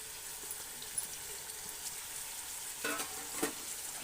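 Garlic-ginger paste frying in a pan for mutton pulao, giving a continuous quiet sizzle with a couple of short stirring scrapes near the end, nearby, with no voices.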